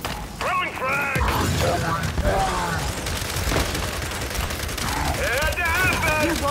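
Combat in the Gears 5 video game, with a thrown frag grenade exploding amid rapid automatic gunfire, mechanical clatter and crashes, while voices shout over the dense, loud battle.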